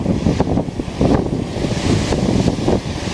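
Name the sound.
big waves on Lake Superior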